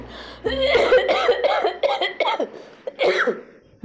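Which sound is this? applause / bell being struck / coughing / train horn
coughing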